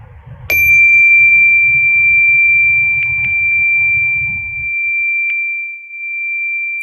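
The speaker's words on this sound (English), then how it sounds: "listening for the sound of the chime signifying the end of our practice" A meditation chime struck once to close a mindfulness practice, ringing out as a clear, loud, sustained tone that fades slowly over several seconds, with no talking.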